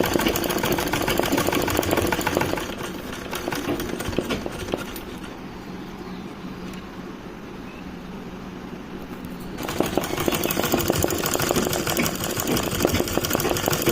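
An embroidery sewing machine runs a running stitch over wool yarn with a steady, close mechanical chatter, pausing midway into a quieter stretch before the rapid stitching resumes.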